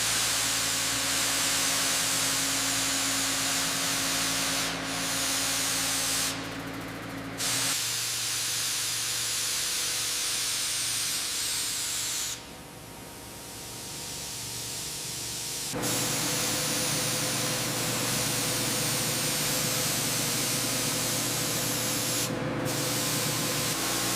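Abrasive blasting on a junkyard Mercedes S-Class during restoration gives a loud, continuous hissing roar that runs for long stretches, stops and restarts a few times, and briefly softens partway through.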